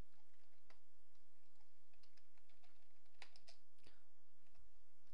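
Typing and deleting C# code on a computer keyboard, with quiet, irregular key clicks and a few sharper taps, close but faint against a low background hum, with no speech.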